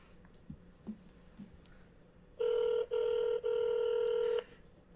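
A phone number is dialed with a few soft button clicks, followed by a loud steady tone broken into three bursts, close and clear.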